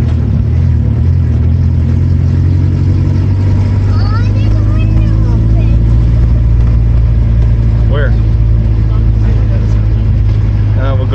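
A dual cab truck engine lugs steadily at about 1,000 RPM while climbing a steep, rough off-road hill, a loud continuous low drone with voices talking over it.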